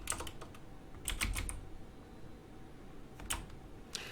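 Quiet bursts of typing on a computer keyboard, a quick run of key clicks followed by a pause and a few scattered keystrokes over low room hiss.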